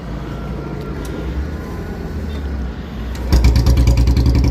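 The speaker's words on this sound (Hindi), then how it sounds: "अब साउंड सुन सकते हैं गाड़ी का।" Royal Enfield Bullet BS6 motorcycle kick-started after a starting problem, background noise giving way to the engine catching and thumping steadily at idle, loud and close.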